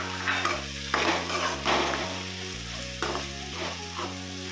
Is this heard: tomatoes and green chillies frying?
yes